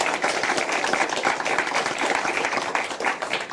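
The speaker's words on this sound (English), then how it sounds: "A round of applause, please, for the last member of our panel." Audience applause at a televised panel debate on the EU, dense continuous clapping from a studio crowd, loud and steady for the whole stretch.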